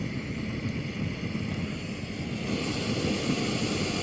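A steady, roaring hiss of a JetBoil backpacking gas stove burner turned up high, running continuously, close and fairly loud, with no pauses.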